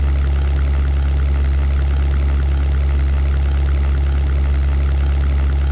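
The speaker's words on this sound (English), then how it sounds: "I just cut off the throttle a little bit. I do not want to cook my engine." A P-51B Mustang's piston aero engine in the European Air War flight game drones continuously with a dense, even low hum and no changes in pitch or volume, with no voices over it.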